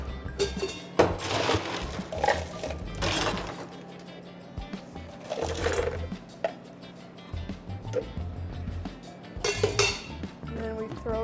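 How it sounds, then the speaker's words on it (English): Ice cubes clatter and clink into a cup or blender jar for a frozen blended coffee drink, in several bursts of rattling impacts at close range. "lastly, I'm gonna add ice."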